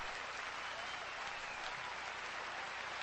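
Steady, dense applause from a concert audience at a performance, a continuous wash of many hands clapping with no pauses throughout.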